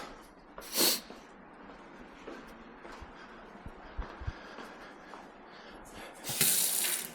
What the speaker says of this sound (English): So now this tap should run out of water.